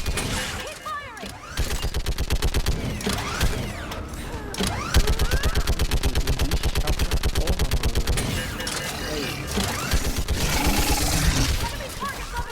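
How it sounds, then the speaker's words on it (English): Sustained automatic gunfire in a Mass Effect 3 firefight, rapid continuous bursts of rattling shots with brief gaps and mechanical clatter, loud and close, with voices shouting over the battle. "Keep firing!"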